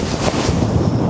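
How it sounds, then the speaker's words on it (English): Strong wind roars across a remote UK golf course, a dense, steady broadband rush buffeting the microphone for about a second, loud and unbroken with no voices. "wind hard off the right"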